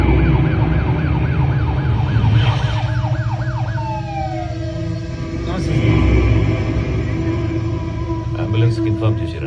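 Ambulance siren wailing in repeated rising and falling sweeps, fairly close and loud, fading partway through as other siren tones and traffic sounds overlap in the background.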